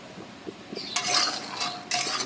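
Metal scraping and clinking in a pan as peanuts are dry-fried, stirred and tossed, with bursts of rattling scrapes between quieter clatter.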